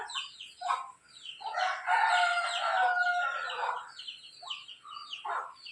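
Young native chickens, home-hatched and about twenty days old, cluck and chirp in a separate coop, their calls overlapping in close, busy bursts with brief quieter gaps.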